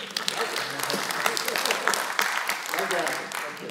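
An audience at the ONOS Build 2017 keynote claps in a loud, continuous burst of applause that lasts the whole stretch, with crisp individual claps standing out.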